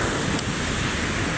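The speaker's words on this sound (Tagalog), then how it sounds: "Yun o, lalaki ng alon mga kadiskarte." Large ocean waves stirred up by Typhoon Kristine roll in on the coast at Calintaan, Occidental Mindoro, a loud continuous roaring surf blended with heavy wind buffeting the microphone.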